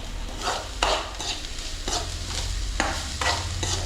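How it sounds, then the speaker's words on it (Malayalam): Peperomia pellucida thoran being stirred in a frying pan, a soft steady sizzle with repeated scraping strokes of a spoon against the pan, close and alone without talk. "അതിലേക്ക് ഇട്ട് കൊടുക്കാം ഇളക്കാം"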